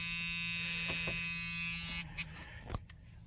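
Electric washer pump on a Squarebody Chevy truck whirring steadily with a buzzing hum for about two seconds, then cutting off, followed by a few faint clicks and knocks inside the cab.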